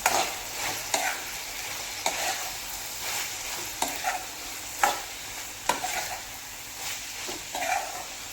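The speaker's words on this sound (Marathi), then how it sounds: "आता हे सगळं व्यवस्थित मिक्स करून घ्यायचं आहे" A spoon scrapes and stirs spiced chicken liver masala with turmeric, red masala and onion in a pan, giving repeated clacking strokes over a soft, continuous sizzle, fairly quiet and close.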